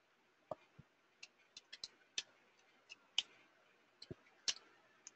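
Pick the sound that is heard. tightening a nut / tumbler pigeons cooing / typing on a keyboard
typing on a keyboard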